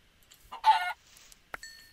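Chickens in a video game cluck in two short bursts as they are killed, one longer squawk then a brief cluck after a pause, close and clear over near silence.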